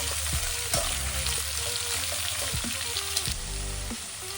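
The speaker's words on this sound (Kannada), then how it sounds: "ಕಟ್ ಮಾಡಿರೋ ಈರುಳ್ಳಿ ಹಾಕೊಂಡು ಆನಿಯನ್ ಮಸಾಲೆ ಜೊತೆ ಚೆನ್ನಾಗಿ ಫ್ರೈ ಮಾಡಬೇಕು." Chopped onions fry with onion masala for a mushroom biryani, a steady broadband sizzle running throughout with a few sharp clinks of a spoon against the pan.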